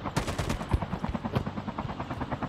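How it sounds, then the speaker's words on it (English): A helicopter in a team shooter video game gives off a rapid, steady rotor chop that stays loud and near throughout, mixed with bursts of gunfire. "I'm trying to find the helicopter."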